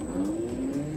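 A Ninebot GoKart electric go-kart drives on a test run, its motor giving a steady rising whine and whir close by, with wind and rolling noise underneath and no talking.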